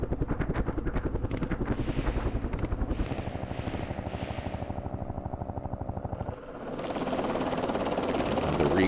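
Helicopter gunships flying in a Vietnam war strategy video game, a loud rhythmic rotor chop with engine whine that fades and shifts into a denser roar near the end.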